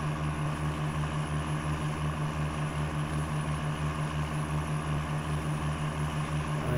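A 1993 Dodge Ram Cummins truck engine in the SnowRunner game idles with a steady, throbbing low rumble that pulses evenly and continuously, with a thin high whine above it and no talking.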